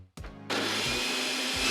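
A blender motor starts up with a whir, then roars steadily and loudly, its pitch shifting slightly as the blades spin.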